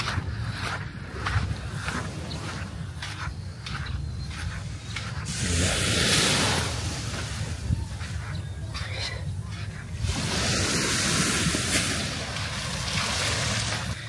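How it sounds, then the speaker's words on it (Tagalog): Sea waves roll in at Crystal Beach with steady surf wash and periodic louder surges of breaking water, with wind noise in the mix and no voices. "And ito yung dagat."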